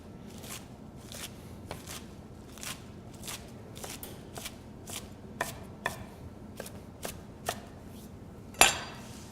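A knife roughly chops spinach on a cutting board for three-bean minestrone: a brisk, fairly even series of sharp, close knocks, about two per second, closing with a louder scrape or clatter.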